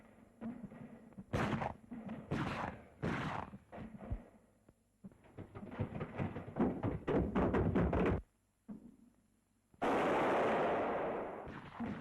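Gunfire in 1943 wartime house-to-house street fighting, heard as sharp bursts and rapid automatic volleys across a street, followed by a long loud rushing blast, with no speech.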